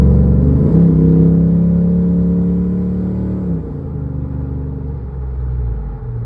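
A 2003 Ram 1500 pickup with a 5.7-liter Hemi V8 and a Diablo Sport tuner runs close by, with a deep engine rumble that rises in a rev, holds, then settles back to a lower idle, heard without talk.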